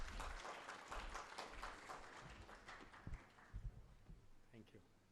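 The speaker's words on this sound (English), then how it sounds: "A huge round of applause for Dr." Audience applause at an India News Manch 2023 event welcoming Dr. Abhishek Manu Singhvi, a faint wash of clapping that fades out over several seconds, with voices and a few thumps near the end.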